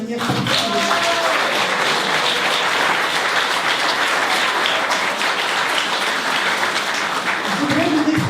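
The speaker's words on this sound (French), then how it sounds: "Et je voudrais qu'on l'applaudisse encore de manière particulière." A crowd gives loud, continuous applause at a prize ceremony, with a dense wash of clapping that holds steady throughout and voices faintly heard beneath it.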